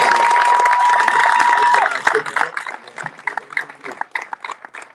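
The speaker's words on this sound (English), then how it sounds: "a big round of applause" Crowd applause and cheering at a flag football jamboree championship game, steady and loud at first, then breaking up into scattered claps and voices as it fades.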